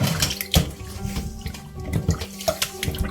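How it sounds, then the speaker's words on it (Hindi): Marinated fish being rinsed three to four times under open running water in a restaurant kitchen for a fish fry, a steady close wash of splashing water with occasional clatters. "अब हम इसको अच्छे से 3 से 4 दफ़ा खुले पानी में इसको वॉश करेंगे।"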